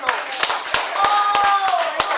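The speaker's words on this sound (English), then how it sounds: "Everybody clap for Momo." Classmates clap for Momo in a virtual classroom lesson, a few sharp, uneven claps spaced through the moment while a voice carries on underneath.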